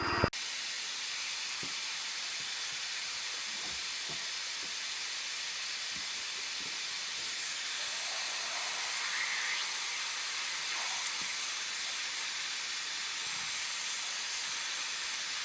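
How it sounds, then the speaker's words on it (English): Compressed air hisses steadily onto a milling machine setup used to make a Troy-Bilt rototiller shaft, a continuous broadband blast lasting throughout with faint clicks underneath and no talking. "Got the air going."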